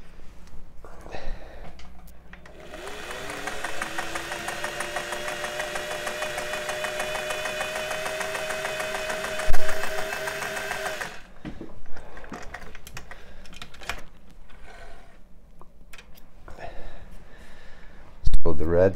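A vintage Singer 401A sewing machine running a stitch, its motor whirring in a steady rapid chatter for several seconds, then stopping, followed by scattered clicks and handling noises near the machine.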